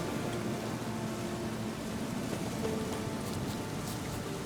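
Steady, soft rain hiss in The Witcher 3 video game fills the scene evenly, a continuous wash of patter with no voices over it.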